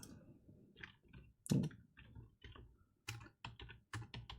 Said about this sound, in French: je vais cliquer sur le bouton New et je vais taper